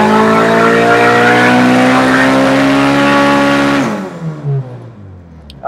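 Turbo Honda Civic EM1 engine on a dyno, held at loud, steady high revs for several seconds, then abruptly lifting off and dropping away in pitch as it winds down, with no talk.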